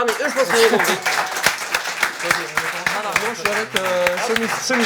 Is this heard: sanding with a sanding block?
no